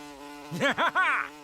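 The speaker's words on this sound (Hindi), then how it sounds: "देखो मक्खी आ रही है" A cartoon fly buzzes in a Daltons animated episode: a close, whiny drone that swells into three quick warbling pulses before fading.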